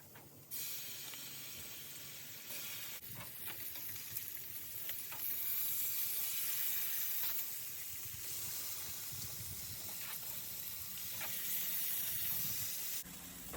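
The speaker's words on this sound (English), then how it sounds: "I will go ahead and put the bacon on the plancha" Bacon slices sizzle on a plancha set over a charcoal grill, a steady, loud frying hiss that holds for the whole stretch with a few faint clinks of cooking.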